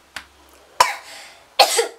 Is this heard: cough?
yes